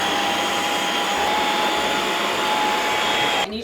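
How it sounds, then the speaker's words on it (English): A vacuum cleaner runs steadily on a floor indoors, a loud constant whine and roar that cuts off abruptly at the end. "I'm gonna go in a more inconspicuous spot and just vacuum it"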